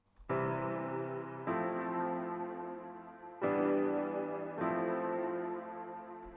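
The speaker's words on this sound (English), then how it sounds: "So I added this piano that sounds like this." A sustained piano chord rings out, then three more chords follow at slow, spaced intervals, each swelling and decaying, complementing a melody; close and alone.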